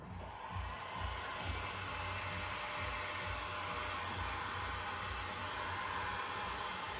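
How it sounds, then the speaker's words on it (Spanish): A hair dryer blows a steady, even rush of air across a fluid acrylic pour painting, a continuous close hiss with no talk. "si quieren, le pueden pasar un poquito más el secador."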